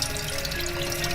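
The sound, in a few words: running water while washing sea bass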